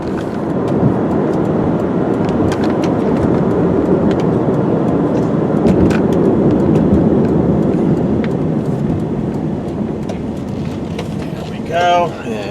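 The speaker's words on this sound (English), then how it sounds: "car seems to go down the road nice and straight" Steady road noise from inside a 2001 Mazda Millenia S, a continuous low rumble and tire hum, with a brief squeak near the end.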